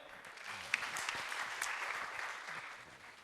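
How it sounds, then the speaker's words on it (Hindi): Audience applause at an education introduction session in Visnagar, a soft, somewhat distant patter of many hands clapping that holds steady for a few seconds with a couple of sharper claps standing out. "तालियां हो जाए।"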